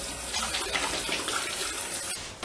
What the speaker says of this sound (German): muss mir erstmal wieder die Hände waschen